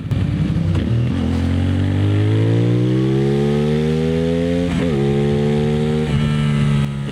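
A CFMOTO 450SS motorcycle's 450cc 270-degree twin-cylinder engine revs up loudly and close, rising in pitch, then drops and climbs again with a throaty, steady growl.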